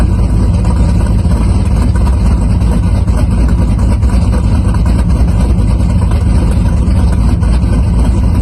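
A supercharged 426 stroker engine with an aggressive FRP cam idles steadily, a loud, rough, continuous low rumble that carries through the whole stretch with no voices over it.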